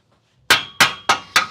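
A small hammer strikes four times in a shed, each blow a sharp, loud metallic bang about a third of a second apart, with no talking.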